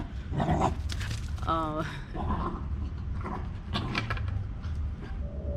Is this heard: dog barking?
yes